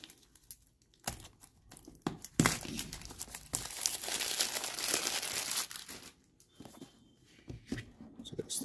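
Cardboard and plastic packaging of an Insta360 Go 2 camera being ripped open at close range, with bursts of crinkling and tearing between quieter pauses.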